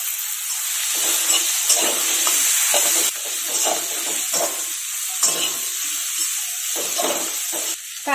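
Ground spice paste frying with chopped tomato in a pan for a fish curry, a loud continuous hiss and sizzle with repeated stirring scrapes, no talking.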